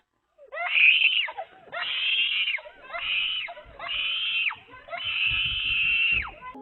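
A girl screams while a raccoon bites her leg: five loud, high, wailing cries in a row, each sustained for about a second with short gasping breaks between them.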